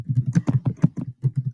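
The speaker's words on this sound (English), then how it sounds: "I'm typing in here" Fingers tap quickly on a computer keyboard, a close, dry run of soft clicks in an uneven rhythm with a brief pause midway and no voices.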